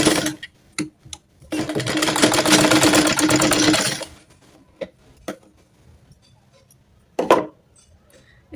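A sewing machine stitching a baby frock runs in one steady burst of about two and a half seconds, close and loud, with scattered clicks and handling taps before and after.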